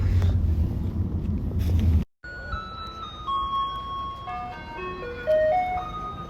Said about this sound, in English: Who the hell came up with these bin lorries?